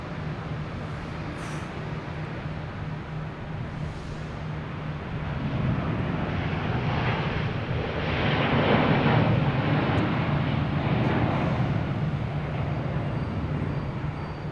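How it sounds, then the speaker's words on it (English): A Delta Airbus A330-900 takes off from Boston Logan toward Amsterdam, its engine roar heard from a distance, building to a broad, loud rumble midway and then holding steady. "We got a Delta taking off, heading to Amsterdam, an A330-900."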